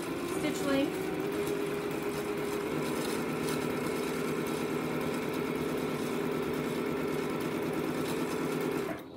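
A sewing machine running a straight stitch with a 2.4 stitch length on fine fabric, a steady close mechanical whir and rapid needle clatter that continues without a break while a person talks over it.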